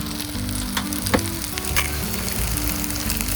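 Beans frying in a pan on an outdoor allotment kitchen stove, giving a steady close sizzle with faint crackles and a low background hum throughout, no talking.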